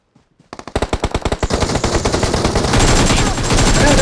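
Rapid automatic gunfire in a shooter video game, a fast rhythmic burst of close, loud shots that quickly blur into a dense continuous roar of firing.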